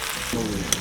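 Vegetables stir-fry in a cast iron pan with a close, continuous sizzle and a brief scrape of stirring near the end, all in under a second.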